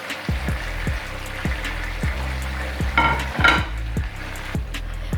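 Fish frying in hot oil in a street-style Lahori fish fry, a steady loud sizzle with repeated metallic stirring or scraping taps, no talking.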